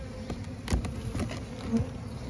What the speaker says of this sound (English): Bees are still flying about.